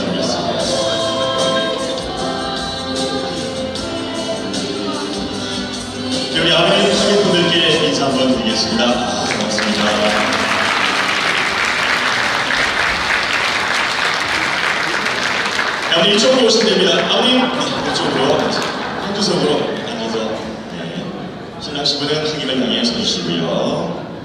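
Wedding guests at a musical wedding at a convention hall clap for the entrance of the bride and groom. A burst of applause swells in the middle of the clip, surrounded and partly overlapped by voices or singing.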